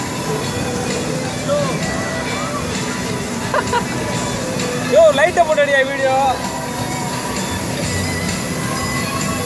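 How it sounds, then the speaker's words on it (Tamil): Steady rumble of a moving train car with faint wheel squeals and brief clatter, heard from inside among the passengers while people talk close by throughout. "இப்போ நாங்கள் போய்க்கிருக்கிறது ஒரு ட்ரெயினில் போய்க்கிருக்கோம்."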